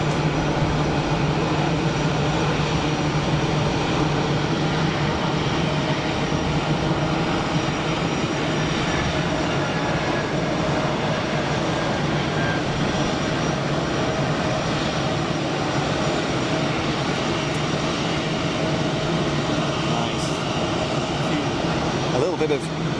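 A jet airliner rolls along runway 04 for departure at Geneva Airport, a steady broadband engine roar holding level and fairly distant throughout, with a faint high whine and brief ticks near the end.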